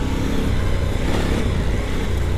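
A KOVE 800 Adventure motorcycle engine pulls hard under throttle, producing a loud, steady, dense roar with constant rumble and no break, heard up close.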